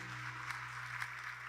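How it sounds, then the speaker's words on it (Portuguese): Church congregation clapping for Jesus during a Sunday service, a steady wash of many hands heard faintly from a distance, with a low hum underneath and no voices. "Quem pode dar um aplauso a Jesus?"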